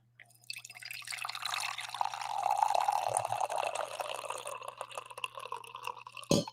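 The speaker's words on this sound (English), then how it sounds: "I need to pour some coffee though." Coffee pours steadily from a pot into a cup indoors for several seconds, a close, soft trickling stream with no talking, ending in a small knock.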